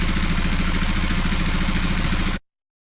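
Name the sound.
AI-generated old muscle car engine idling loop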